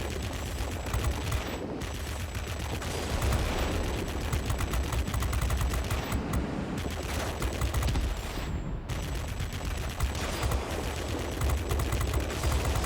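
Guns on an F6U Pirate fighter plane hammer away in World of Warplanes in long, dense automatic bursts. Several brief gaps break up the fire, and a constant engine drone runs beneath it throughout.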